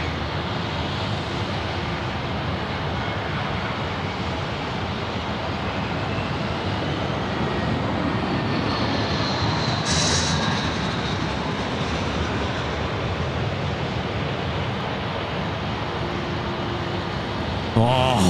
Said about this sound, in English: we've got a Jetstar aircraft about to land. It's an A320 coming in from Avalon.